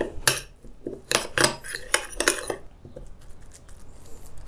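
A sauce of soy, mirin and minced garlic is mixed for spicy Korean pork belly, with quick bursts of utensils clinking and scraping against a bowl, then quieter fainter rattles.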